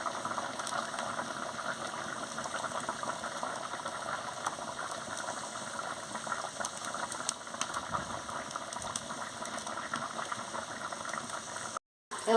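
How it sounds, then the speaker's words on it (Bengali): A curry of papaya, pointed gourd, soybean chunks and potato bubbles at a rolling boil in a pot, a constant close simmering hiss with faint popping that cuts off briefly near the end. "বন্ধুরা দেখুন কি সুন্দর টকবক করে ফুটছে"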